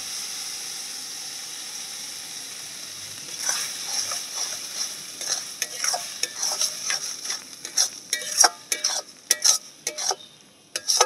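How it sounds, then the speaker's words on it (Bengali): Fish roe paste fries with onion in a pan under a faint background sizzle, then a spatula begins to stir steadily. Close, rhythmic scraping and clicking strokes grow louder and quicker toward the end. "এইভাবে অনবরত একটু নাড়তে হবে, তাহলে কিন্তু সুন্দর করে ভাজা ভাজা হয়ে যাবে"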